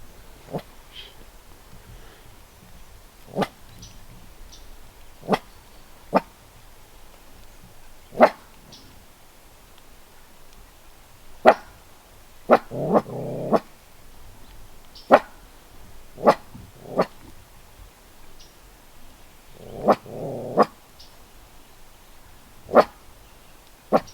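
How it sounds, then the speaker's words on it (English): A dog barks in sharp, separate bursts spaced irregularly over a quiet background, with a couple of longer, rougher yelps mixed in. "So Whiskey is barking."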